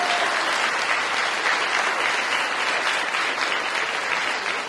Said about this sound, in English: give them a round of applause. Now you can clap.